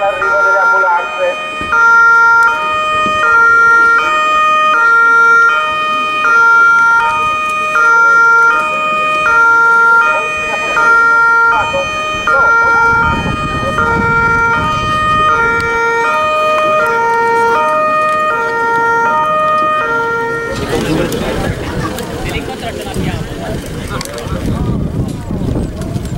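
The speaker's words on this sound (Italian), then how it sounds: "E aspetta l'arrivo delle ambulanze." A two-tone emergency siren wails repeatedly and loudly as ambulances arrive at a simulated road accident at an Italian emergency exhibition, joined by engine rumble and road noise as the vehicles draw close.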